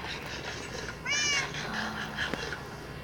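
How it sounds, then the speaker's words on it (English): A cat meows in a video game, a clear rising-falling meow with harmonics standing out over a steady background hum, heard once near the middle with faint other meows around it. "Beautiful cat, why did you follow me?"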